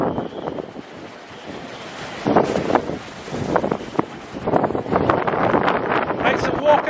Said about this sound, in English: Right, so walking into the wind.